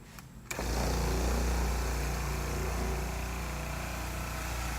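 Electric paint buffer with no speed control, run on dull paint of a shuttle bus RV conversion, switching on after a short quiet moment into a steady loud motor hum with a wavering, oscillating tone that continues to the end.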